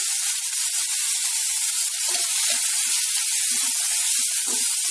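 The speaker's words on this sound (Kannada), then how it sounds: "ಈಗ ಸ್ವಲ್ಪ ತೆಂಗಿನಕಾಯಿ ತುರಿ, ಇದನ್ನು ಕೂಡ ಫ್ರೈ ಮಾಡ್ಕೋಬೇಕು" Grated coconut fried with tomato, ginger and garlic gives a constant, loud, close sizzling hiss with scattered crackles, alone without speech.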